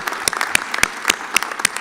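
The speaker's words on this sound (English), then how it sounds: "Well-deserved hand of applause" Steady crowd applause at a 2018 inauguration ceremony honoring the New Bedford High School Marching Band: dense, crackling hand claps with sharper individual claps standing out, close and continuous for the whole stretch, with no voices.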